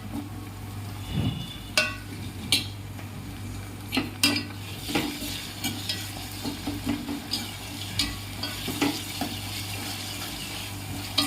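Ginger garlic paste and onions are stirred in a pan with repeated spoon scrapes and taps over a low, steady sizzle, close and fairly quiet.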